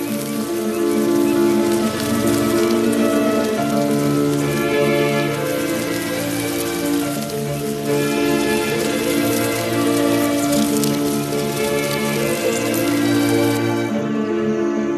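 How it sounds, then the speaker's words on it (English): Steady rain falls across the African savanna, a continuous dense patter with faint bird calls beneath, mixed under a sustained musical bed throughout. "The first drops of rain trigger a remarkable event"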